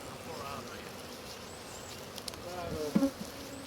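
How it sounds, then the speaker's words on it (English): Honey bees buzzing around a Langstroth hive at an outdoor apiary, a faint steady hum of many insects with a few louder buzzes passing close near the end. "This right here, this is a drone. That's a male bee. And these are workers."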